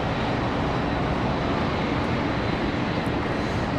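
American Airlines Boeing 777-200 airliner arriving at Charlotte Douglas International Airport, a steady, broad roar of jet engines that holds level throughout, with no talking.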